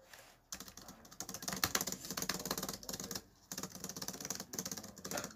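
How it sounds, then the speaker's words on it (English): Computer keyboard spacebar tapped rapidly during a Roblox game, a dense flurry of close, sharp key clicks in quick bursts with one short pause midway, no talking. "That is me spamming spacebar."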